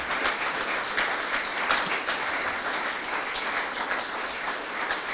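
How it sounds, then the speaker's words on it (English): Continuous audience applause at a science café talk on microplastics, many hands clapping in a steady, even wash at moderate volume with no talk over it. "you can keep applauding, it's fine"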